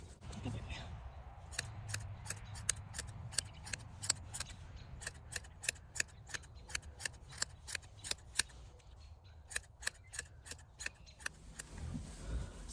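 Shears snip through a dog's coat in quick, crisp repeated clicks, close and fairly quiet, with a low background rumble and no talk.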